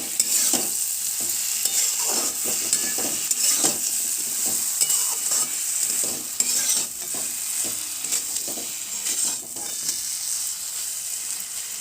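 A paste of white and black mustard seed, poppy seed, green chili and garlic sizzles in a hot pan for Bengali sheem paturi while a utensil stirs and scrapes it with steady frying hiss.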